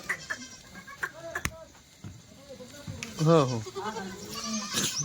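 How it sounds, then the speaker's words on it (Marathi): Kathewadi goats and kids bleat in a shed on a farm, several wavering cries from close by, overlapping with someone talking and short calls from people. "या बघा शेड्या हे बच्चे बघा मित्रांनो"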